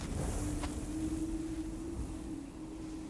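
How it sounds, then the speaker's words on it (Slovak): Desert wind blowing in Egypt, a steady rushing gust with low rumbling buffeting, continuous and fairly strong, with a faint tonal hum running underneath. "To je vietor z púšte."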